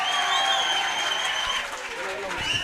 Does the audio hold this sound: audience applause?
yes